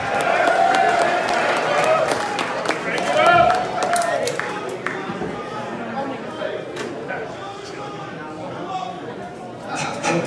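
Concert crowd in a ballroom applauding and cheering a saxophonist, a dense wash of clapping and shouts that swells early then gradually thins, with voices over it.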